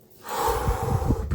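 A slow, deep inhalation drawn close to the mic in a quiet room, rising gradually and holding steady for about a second before a brief catch at the end.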